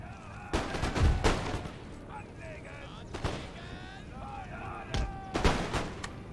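Musket volleys in the Empire: Total War strategy game, several sharp cracks and booming bursts scattered through the clip amid battlefield din, with a voice talking over them.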